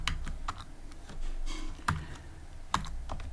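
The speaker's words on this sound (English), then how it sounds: "Next, I'm gonna type window" Typing code on a computer keyboard: a steady run of close, crisp key clicks, with a few sharper, louder strokes standing out near the middle and toward the end.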